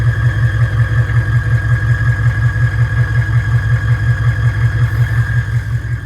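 A 6.5 diesel engine idles, heard right at the exhaust, a loud, steady low rumble with an even pulsing rhythm and a faint whine above it.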